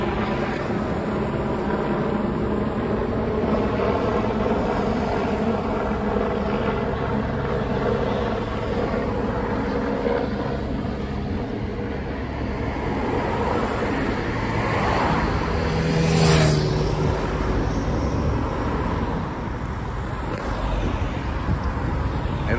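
Vehicles passing at a distance outdoors, a continuous low rumble that swells briefly near the end, with no talking.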